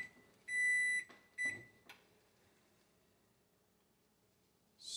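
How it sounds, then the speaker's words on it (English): A kitchen-style timer, used while heat-dyeing FRN knife scales, sounds two clear electronic beeps, a long tone followed by a shorter one, with light handling knocks afterward in an otherwise quiet room. "And here goes our timer."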